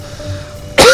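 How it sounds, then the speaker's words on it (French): A single sharp cough close to the microphone, bursting out abruptly at the end after a quiet moment of low background hum. "excuse-moi, je tousse."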